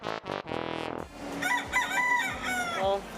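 Chickens at the Woven Roots Community Garden cluck and crow close by, a few sharp squawks followed by a rooster-like crow and busy overlapping clucks, with no talk.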